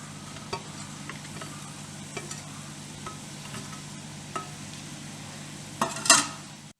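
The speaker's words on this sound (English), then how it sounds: "Fry on a low heat until the onions and the herbs have sweated down" Spring onions, dill and mint frying over low heat in a pan, a steady soft sizzle with occasional clinks and stirring scrapes, and a brief louder burst of stirring near the end.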